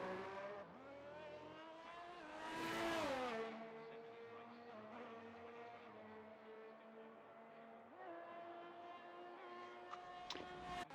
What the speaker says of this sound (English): flurry of cars out on the track